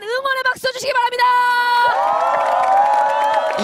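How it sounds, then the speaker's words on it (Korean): Audience at an outdoor televised beach game show cheering and applauding for two contestants, a loud burst of whoops and crowd noise, with voices shouting through it. "두 친구에게 힘찬 응원의 박수 주시기 바랍니다"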